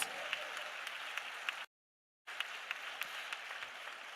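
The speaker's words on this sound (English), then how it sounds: "Please give them a big round of applause." A room of people applauds with steady, moderately loud clapping, broken by a brief silent gap before resuming.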